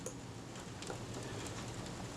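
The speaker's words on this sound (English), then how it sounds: "You can probably hear that rain pouring down outside." Steady rain pours down outside on a spring day in Dunedin, a faint continuous wash of hiss with no distinct drops, heard from indoors at low level.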